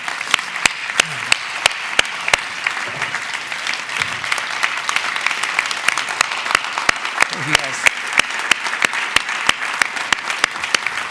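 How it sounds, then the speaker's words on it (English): A live audience claps steadily throughout, a dense sustained round of applause with sharp individual claps standing out, while a voice briefly thanks the crowd over it. "let's give him a big round of applause"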